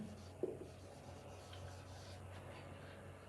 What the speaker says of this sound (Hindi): चलिए हम लिख लेते हैं